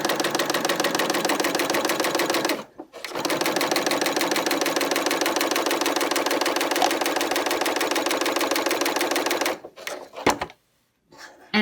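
A serger sewing machine stitching along fabric runs with a fast, even mechanical chatter, loud and close, pausing briefly, then running steadily before stopping with a few short bursts near the end.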